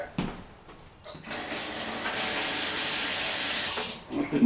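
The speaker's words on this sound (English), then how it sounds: "It didn't pour out so smoothly." Crown Royal Black whisky pours into a glass as a steady splashing rush of liquid lasting about three seconds, preceded by faint clinks and handling noise and ending with a few trailing drips.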